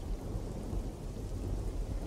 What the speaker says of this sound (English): I guess it's raining so hard that people just don't know